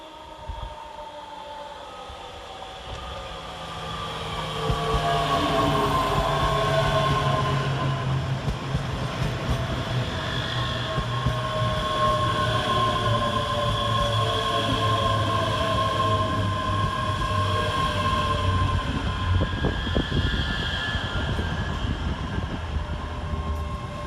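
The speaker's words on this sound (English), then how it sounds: "Next into the station is 385-106 and 104 and 385-107, working the 1510 Scotrail service from Edinburgh Waverley to Glasgow Queen Street" ScotRail class 385 electric trains pull into Polmont station on an Edinburgh to Glasgow service: a low rumble swells after a few seconds into a loud, sustained roar with layered motor whines, close by and unbroken.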